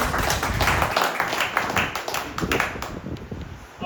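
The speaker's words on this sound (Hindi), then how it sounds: "इसके पश्चात जोरदार तालियों से स्वागत करेंगे" A school certificate ceremony audience breaks into steady applause, many hands clapping at close range in a dense, continuous patter.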